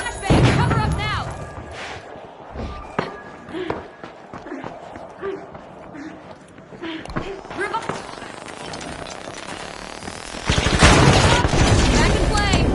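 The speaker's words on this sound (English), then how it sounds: "Yeah, flashbang." A flashbang grenade and gunfire go off in The Finals, with scattered shots and thuds through a firefight, ending in a loud dense burst of blasts, while a voice talks over parts of it.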